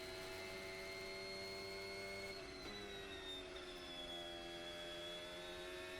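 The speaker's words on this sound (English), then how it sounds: "See how you can hear the revs increasing progressively?" A Formula 1 car engine in qualifying gives a faint, distant, steady high-pitched whine with layered harmonics. Its pitch holds fairly level throughout.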